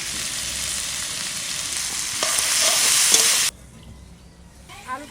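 Potatoes fry with spices in hot oil, giving a loud, dense sizzle with stirring scrapes. It cuts off abruptly partway through, leaving faint quiet crackling and a few soft clinks.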